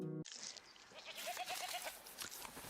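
Goats bleating in the video game Knock on the Coffin Lid, a short run of rapid quavering bleats heard fairly faint over a soft ambient game background after a brief musical tone.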